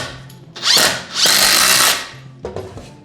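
Loud, close power drill driving screws into a 2x4 for a tube storage rack, two whining bursts that build and cut off, then a short third pulse.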